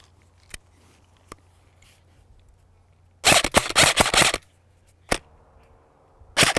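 An ICS Transform4 airsoft rifle fires a dense full-auto burst of about a second, with a few sharp single shots before and after it. The shots are close and loud, with quiet pauses in between.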